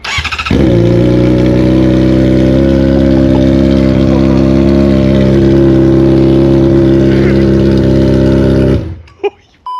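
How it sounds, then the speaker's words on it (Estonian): Car engine idling loudly with no muffler fitted, a deep raw droning rumble held steadily up close for several seconds before cutting off abruptly. "Nüüd me kuuleme, mis häält ta teeb siis, kui ei ole üldse summutit."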